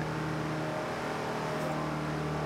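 A VW Bulli van's engine screams steadily at redline in top gear while cruising in Forza Horizon 2, a loud, sustained droning whine with no talking.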